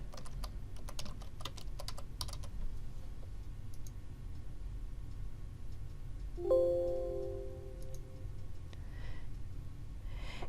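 Typing on a computer keyboard to enter a search in quilt design software, rapid irregular clicks clustered at the start, then a brief tonal chime and quieter ambient hum with no talking.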